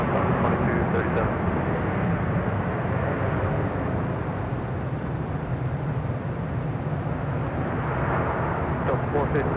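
A Delta airliner takes off from runway 24 left at LAX, producing a continuous, broad jet roar that stays loud and steady throughout, with faint radio chatter underneath.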